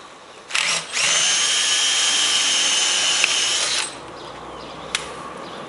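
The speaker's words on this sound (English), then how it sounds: "take a number 7 drill or a 1/4 inch drill and drill the head out" A power drill with a 1/4 inch bit whines steadily at close range for about three seconds, drilling out a door hinge pin head, then winds down to a low hum.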